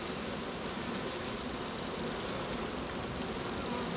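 A swarm of honeybees that has left an overfull hive, buzzing as a dense, steady hum throughout, close and continuous with no talk over it.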